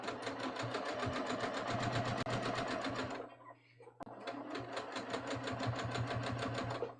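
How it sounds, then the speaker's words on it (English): A sewing machine stitches a front pocket in a steady, fast rapid-fire run, pauses briefly, then resumes at the same even pace, close and clear. "Okay, so we're carefully going to just sew along here."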